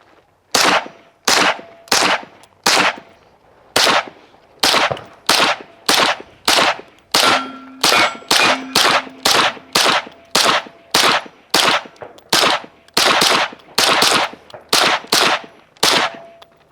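Rapid strings of suppressed .22LR gunshots through a Shadow Silencers DUO DUO suppressor, sharp snappy cracks in quick bursts of three to five shots with brief pauses between, close and loud, no talking.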